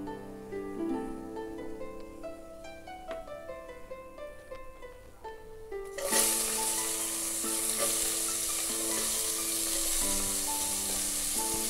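Onions and chilies frying for a mushroom biryani: music plays at first, then a loud, close sizzle bursts in about halfway through and continues steadily under the music.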